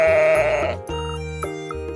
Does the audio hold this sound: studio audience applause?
no